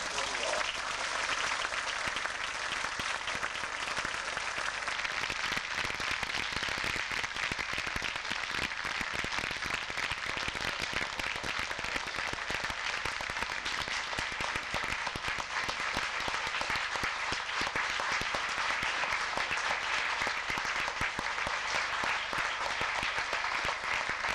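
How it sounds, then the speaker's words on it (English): A large audience at a 1989 Manchester UFO conference gives a long, steady round of dense applause, loud and continuous like heavy rain, with no pause for its whole length. "I have a big round of applause for Dolores Mantes."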